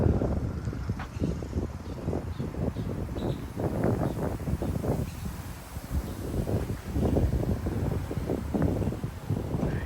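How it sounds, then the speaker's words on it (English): Strong wind gusts in a yard in Frisco, Texas buffet the microphone in rumbling low bursts, with leaves rustling faintly beneath, steady and close throughout the stretch. "it's very windy today"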